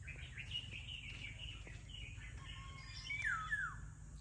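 Birds chirp and whistle in the rural countryside, with varied bright calls overlapping at moderate distance and a sweeping warble near the end, over a faint low hum.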